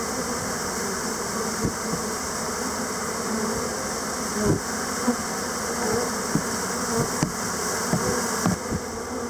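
A honey bee swarm hums in a dense, continuous buzz close by, steady and unbroken, with occasional faint knocks underneath and no talking.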